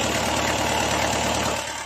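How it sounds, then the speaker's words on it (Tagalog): A rice mill's engine runs steadily just after an oil change, a loud, continuous mechanical drone with a regular low knocking pulse, close up and without any talk. "pansinin nyo yung andar ka mechanics. Medyo magaan na yung ikot ng makina."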